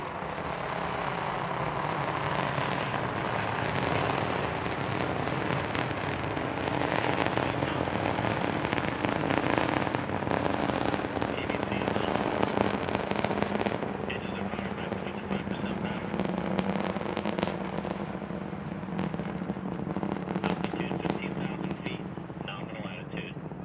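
An Antares rocket engine roars throughout a launch. The sound is a loud, crackling, continuous rumble, and launch-control voices are heard over it.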